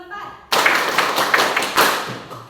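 Students clap together in rhythm during a classroom clapping game at a junior high school, a loud burst of sharp, roughly synchronized claps with a few stronger accents and some voices under them.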